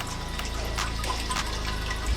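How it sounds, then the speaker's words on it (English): Water trickles and splashes in a Buddha water feature in a garden, a continuous close babble with small irregular drips, heard alone. "So I love the sound of the water."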